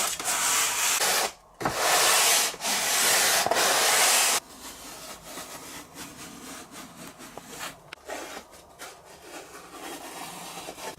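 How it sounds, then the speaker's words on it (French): Sandpaper rubbing on wooden hurdy-gurdy parts, with loud, steady back-and-forth strokes broken by short pauses, then quieter, lighter sanding in the second half. "Je recouvre les champs de crayon pour pouvoir mieux cerner les endroits encore à poncer."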